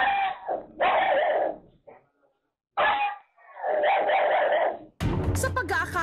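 Several dogs bark and howl at night in loud, uneven bursts separated by short pauses, followed by a brief, sharper burst of different sound at the end.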